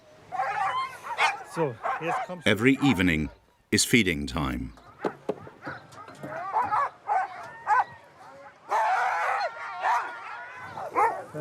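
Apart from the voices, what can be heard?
Greenland Huskies barking and yipping at feeding time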